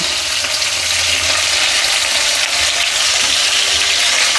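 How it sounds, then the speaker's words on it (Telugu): Small potato slices fry in oil with a loud, continuous, even crackling hiss that holds steady throughout, close up and with no voices. "ఇవన్నీ వేగిపోవాలి నూనెలో మనకి."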